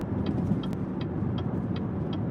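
A car drives through city streets in Rhode Island, with a steady low engine and road rumble and faint, regular ticks on top, heard from inside with no talking.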